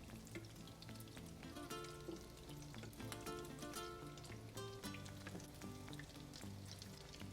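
Tuna and potato patties frying in a pan, a continuous dense crackle and sizzle of hot oil with fine popping throughout, steady and fairly quiet, no talking.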